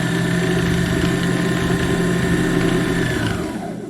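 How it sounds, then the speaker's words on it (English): A Husqvarna Viking 5610 sewing machine runs its bobbin winder in a loud, steady close motor whir with a humming drone, winding down at the end as the pedal is released. "I don't believe this machine has an automatic bobbin winder stop"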